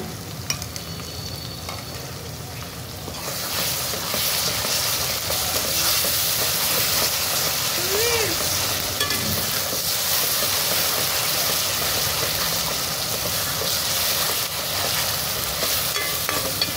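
Ginger garlic paste sizzles loudly and steadily in a hot pan with softened tomatoes for a chicken gravy curry, a close, continuous frying hiss with occasional stirring scrapes and no talk.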